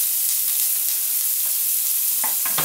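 Onions fry in a pan over high heat with a constant close hiss, broken by a few sharp clicks of stirring near the end.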